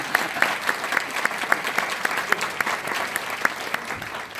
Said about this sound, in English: We should applaud.